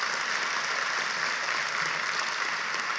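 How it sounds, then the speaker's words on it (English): A crowd at a college convocation applauds steadily, a dense continuous patter of clapping at moderate distance with no voices. "Let's give her another round of applause."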